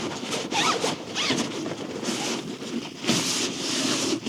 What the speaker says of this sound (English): And when you zip this up